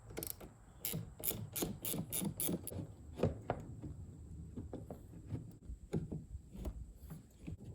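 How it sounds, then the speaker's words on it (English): Ratchet turning a 10mm socket to remove a truck's battery hold-down, a quiet run of quick clicking strokes in short bursts separated by pauses. "Little 10mm socket takes out the battery hold down."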